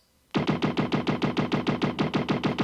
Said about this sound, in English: I then capped it all off by adding some sound effects to the guns